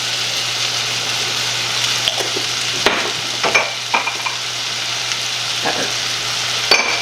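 Butter melts in a pan as spices are stirred in, a soft continuous sizzle under a steady hum, broken by occasional scraping clicks of the utensil.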